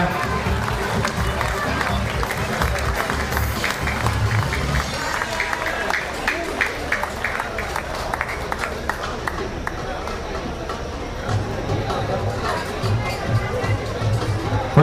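A crowd at a bikers' festival in a park in Johor claps in scattered, uneven bursts beneath a loud voice over a speaker system and general crowd chatter, with the clapping thinning out partway through.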